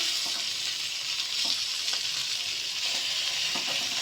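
Chicken pieces fry in a tablespoon of olive oil for a Turkish chicken soup, giving a steady, close, dense sizzle that holds evenly throughout with a few faint pops and no talking.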